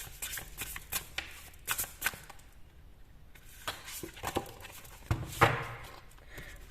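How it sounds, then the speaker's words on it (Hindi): Tarot cards being shuffled and drawn make quick papery riffles and soft slaps in irregular bursts, close and fairly quiet. "एक कार्ड मैं और निकालूंगी।"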